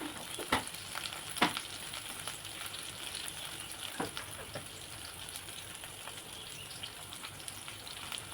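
Curry leaves crackle and sizzle as they fry in a pan for a drumstick gravy, a steady bed of spitting hiss broken by a few sharp pops and stirring scrapes near the start, with no voices.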